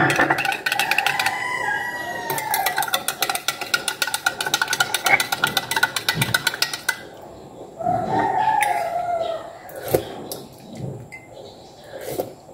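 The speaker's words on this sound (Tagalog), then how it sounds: "Gigising na po yung mga manok." A rooster crows loudly nearby in long drawn-out calls, over a steady background of rapid clicking or ticking and other farmyard chatter.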